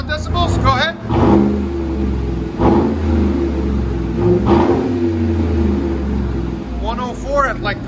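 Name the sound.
lifted 2015 Chevy Suburban 5.3L V8 dual exhaust revving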